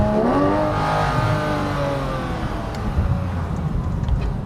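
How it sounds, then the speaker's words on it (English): A 991-generation Porsche 911 GT3 engine accelerating while being driven on a road, revs climbing then steadying, heard loud and close from inside the car with no talk. "we'll put the car through its paces one more time"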